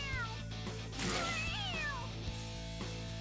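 A cat character in the video game Persona 5 Royal lets out several drawn-out, rising and falling meows over a steady low game-music hum, fairly close and clear with no talk.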